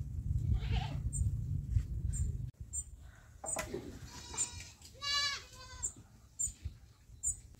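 Goats in a dirty village goat house bleat in a few sharp, quavering calls nearby, mixed with scraping and rustling from cleaning work and some low background noise.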